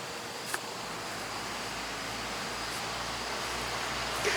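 Bees buzz around flowering plants in a wild, untidy late-summer garden, a faint steady hum held low and continuous under quiet outdoor air, with a couple of brief sharper ticks.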